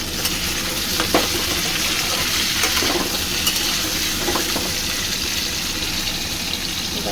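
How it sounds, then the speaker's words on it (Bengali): Taro root (gathi kochu) frying in hot oil in a pan, giving a loud, steady, crackling sizzle with occasional soft clinks of stirring throughout. "এই গাঠিটা ভাজা হচ্ছে"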